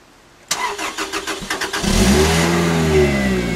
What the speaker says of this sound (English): You're going to see if the car starts off if it's sitting in the cold rain all night.